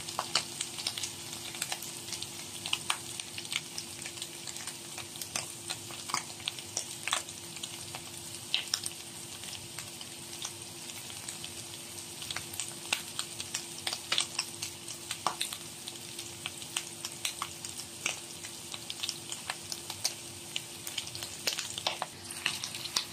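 Onion and garlic sautéing in a pan for adobong itlog, a steady crackling sizzle with frequent small pops and stirring scrapes throughout, moderately close.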